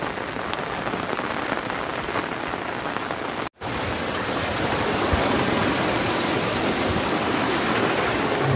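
Heavy rain pours steadily onto ripe paddy fields, a dense close hiss of drops striking water and ground that cuts out for an instant and then resumes just as strong.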